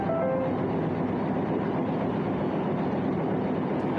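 Train rolling along rails, a steady, continuous rumble with faint rhythmic clatter, heard alone at even loudness throughout.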